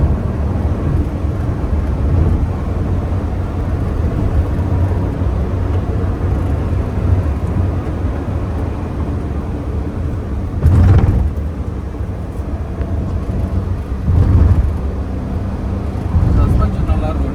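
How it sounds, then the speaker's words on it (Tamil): Interior drone of a Renault Kiger driving at high speed on a highway, with steady low road and engine rumble and a couple of brief whooshes of passing traffic. "இப்போ ஹைவேல டிரைவ் பண்ணி ஹை ஸ்பீட் ஸ்டெபிலிட்டி எப்படி இருக்குது அப்படின்றத பார்த்தலாம்"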